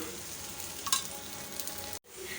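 Rava dosa frying in oil on a pan over a medium flame gives a steady, close sizzle with light crackle, briefly cut off by a short gap near the end before the sizzling resumes.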